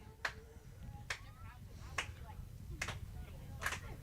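A high school girls' softball team, the Lady Red Devils, claps in unison at a game: five sharp, evenly spaced claps almost a second apart, faint and somewhat distant over quiet field ambience.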